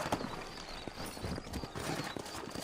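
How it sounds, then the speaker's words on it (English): Red Dead Redemption horses walking in a town in the game, steady soft clip-clop of several hooves at a moderate distance, quiet and even throughout with no talking. "You ain't gonna find sturdier horses than these in all of New Ulster."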